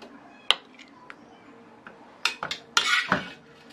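Dishes and utensils clinking as stir-fried asparagus with salted pork is plated: a few sharp metallic clinks and scrapes of a spatula against a plate, close and brief, with a voice faintly present.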